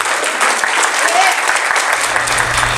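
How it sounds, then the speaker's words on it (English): A crowd at a furry convention's opening ceremonies applauds Thorgy with loud, dense, continuous clapping and scattered cheers filling the whole stretch. "Thorgy. Round of applause,"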